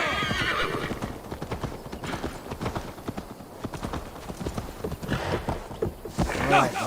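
Video-game horse hooves clip-clop in a steady, rapid gallop, close and prominent, with several whinnies breaking through.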